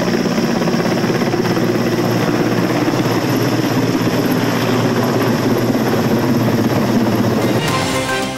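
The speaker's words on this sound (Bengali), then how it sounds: "পানি ছিটাচ্ছে হেলিকপ্টার" Helicopter spraying water over a forest fire in the Chandpai range of the Sundarbans, its rotor and engine drone loud and steady throughout, without a break.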